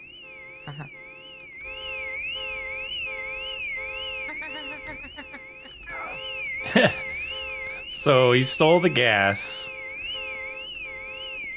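A car alarm sounds in Car Dealer Simulator, a steady warbling siren tone rising and falling in repeated sweeps throughout, with someone talking over it and a few louder game noises near the end.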